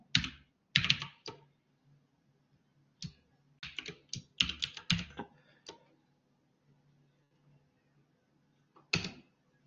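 A computer keyboard being typed on to rename a network adapter, short bursts of close, crisp keystrokes separated by quiet pauses.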